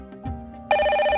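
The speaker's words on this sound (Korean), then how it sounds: "집 전화벨이 날카롭게 울려 퍼졌습니다." A landline telephone bell starts ringing sharply in a home kitchen just after lunch, a loud, steady electronic ring that cuts in suddenly after a brief quiet stretch with faint background sounds.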